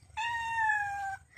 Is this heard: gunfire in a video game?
no